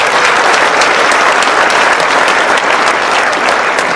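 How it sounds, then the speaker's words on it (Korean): A large crowd of audience members, with many Korean War veterans among them, claps loudly and steadily at a lecture gathering, a dense wash of applause filling the room throughout. "이분들한테"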